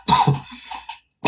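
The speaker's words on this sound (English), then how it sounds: "I wanted to cough so bad" A single person coughs twice in quick succession, close and loud, then a brief pause before another cough starts.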